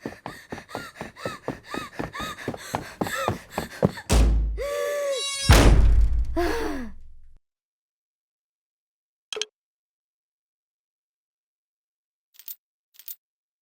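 Loud, rapid banging on a door in a horror video game, a fast run of heavy knocks that builds into thuds and slams before sharp silence, then a few faint isolated knocks.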